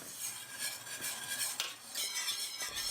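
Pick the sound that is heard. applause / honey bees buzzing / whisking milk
whisking milk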